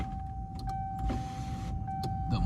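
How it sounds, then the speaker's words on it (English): A car's sunroof motor runs with a faint electric whine and a steady hum, with a few small clicks, heard close inside the vehicle. "The motor and everything works."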